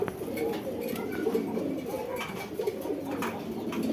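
Pigeons coo steadily at a busy pigeon market selling Sirazi and racer birds. The low, rolling calls overlap continuously from several birds nearby, with faint crowd murmur behind them.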